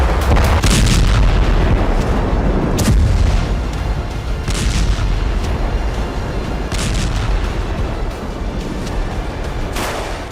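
Bombardment near a hospital in Gaza: heavy, continuous rumbling blasts and booming artillery-like explosions, loud and sustained with repeated sharper impacts throughout, no voices.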